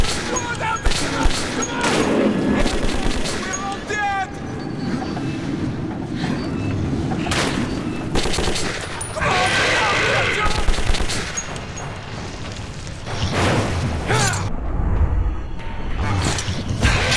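Heavy gunfire rings out in the Metro 2033 video game as enemies are shot, dense bursts and rapid automatic volleys running almost continuously, with shouted voices and other game noises mixed in.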